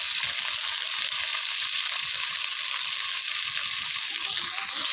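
Salt and turmeric being stirred into frying shrimp and taro in a cooking pan: a loud, steady hiss of sizzling fills the whole stretch with soft stirring rustles underneath, no voice.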